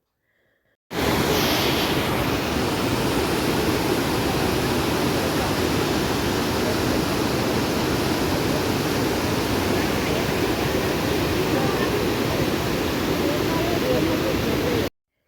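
A waterfall in Yaremche in the Carpathian mountains gives a loud, steady, broadband roar of falling water that starts abruptly after a second of silence and holds unbroken to the end.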